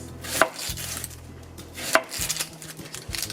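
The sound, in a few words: chopping a whole onion with a knife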